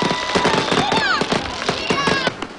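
New Year fireworks over the coastal Brazilian town of Torres, a dense run of crackling bangs with rising whistles, continuous and fairly loud, with faint crowd voices underneath.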